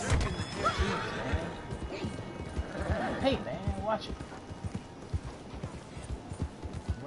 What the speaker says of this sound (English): I'm riding my horse here through the town as fast as I can